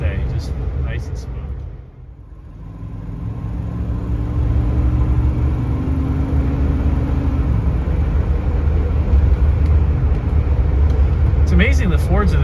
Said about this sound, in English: And going 55 miles an hour down a relatively rough road.